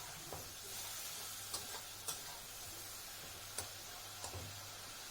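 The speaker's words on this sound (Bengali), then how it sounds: "হলুদ গুঁড়োটাকে দিয়ে মশলাটাকে ভালো করে কষিয়ে নেব।" Turmeric powder and spice paste frying in a pan over medium-low heat, a faint steady sizzle with a few soft clicks of stirring spaced through it, no voices.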